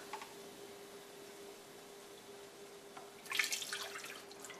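Water goes into a pan of meatball sauce with chicken broth and cream, a short faint trickle and splash that comes late, over a quiet steady hum.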